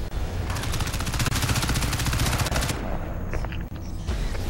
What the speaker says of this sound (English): Guns are still going off after the kill.